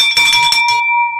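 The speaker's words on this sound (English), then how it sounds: "ring that bell" A handbell is rung several times in quick succession, loud and bright, then the last strike rings out and fades alone.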